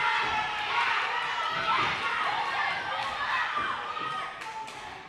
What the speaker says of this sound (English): the crowd is super loud